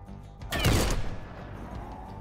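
A burst of gunfire from the turn-based post-apocalyptic strategy game Skyshine's Bedlam: a loud, sharp volley of several rapid shots, followed by a decaying rumble and low ambient game sound.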